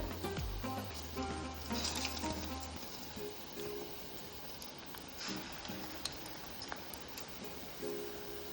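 Sweet paniyaram batter frying in hot oil makes a steady, soft sizzle and crackle with faint ticking pops, heard alone at close range.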